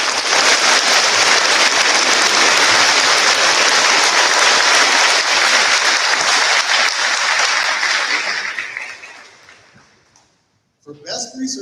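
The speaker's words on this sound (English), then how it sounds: "Let's give them all a round of applause." A large audience applauds graduates at a Class of 2021 cord ceremony, loud sustained clapping that fades out toward the end before a brief burst of other sound.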